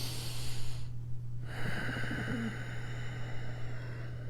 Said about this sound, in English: And I can practice my nasal breathing.